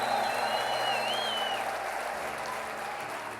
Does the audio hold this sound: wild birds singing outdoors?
no